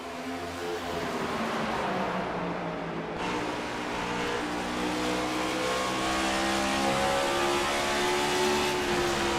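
Race cars thunder around the Bristol short track in a Bluegrass Cup Series chase race, engines roaring steadily and loud throughout with shifting pitch as the pack runs hard into turns three and four; no talking.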